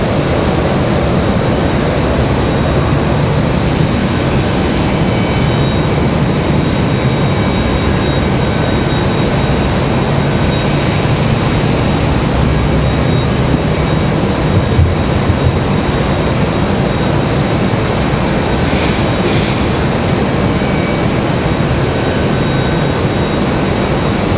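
A Breeze Airways Airbus A220 jet on final approach at Raleigh-Durham airport in stormy weather gives a steady, loud broadband roar that holds evenly throughout, with no voices.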